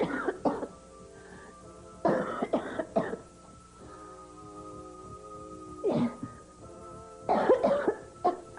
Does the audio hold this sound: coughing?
yes